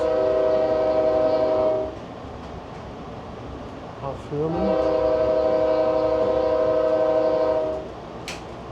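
An Amtrak train horn sounds in two long, steady blasts over rumbling rail noise, with a brief spoken phrase in the gap between them.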